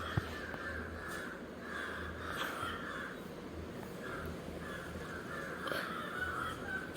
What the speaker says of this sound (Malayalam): കാക്കയൊക്കെ കുര വിടുന്നു.